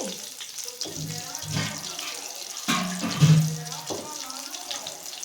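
Water is poured over dried fish in a container to soak, with splashing and trickling, interrupted by a couple of brief clatters, nearby.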